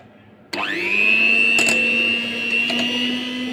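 Electric hand beater whipping 200 ml of whipping cream, switching on abruptly and then running steadily with a high motor whine, a few brief clicks and scrapes from the bowl along the way.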